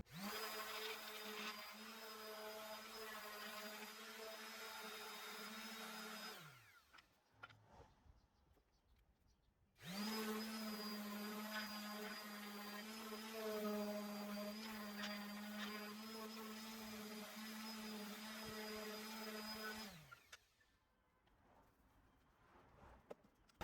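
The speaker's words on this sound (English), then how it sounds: "I actually need to sand them before I go and paint them." Power sander working over cut wooden pieces before painting, a loud steady motor whine in two long runs separated by a short pause, then stopping.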